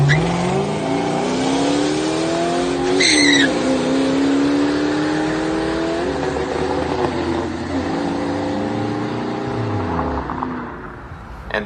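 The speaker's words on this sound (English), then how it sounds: "And how about some racing at the drag strip against the new STI?" A 2001 Zinc Yellow Mustang GT drag races a new Subaru STI at a drag strip. The loud engine revs hard with rising pitch through the gears, holds a sustained roar, then eases off, with no talking.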